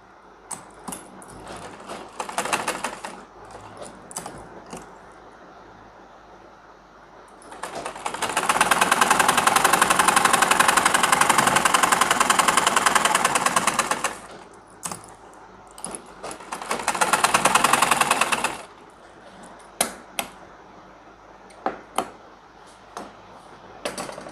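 Sewing machine stitching trouser pyjamas in two long loud whirring runs, with scattered clicks and taps of handling the fabric between and around them.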